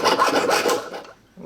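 A metal earring plate is worked with a hand file, giving close, loud rasping strokes in a quick back-and-forth rhythm for about a second before stopping.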